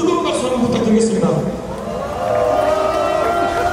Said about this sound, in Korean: 우리 여러분 뜨거운 박수 한번 부탁드리겠습니다